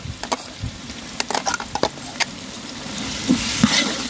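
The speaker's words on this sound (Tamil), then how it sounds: "இப்போ நம்ம இஞ்சி பூண்டு பேஸ்ட் போட்டுக்கலாம்." Ginger garlic paste hits hot oil with softened tomatoes for a chicken dum biryani, giving a low steady sizzle under sharp scraping clicks of a spoon stirring the pan, close and alone.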